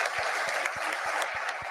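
Applause after Fed Chair Jerome Powell's Jackson Hole remarks in the national park, a steady wash of clapping with some heavier individual claps standing out at a regular beat.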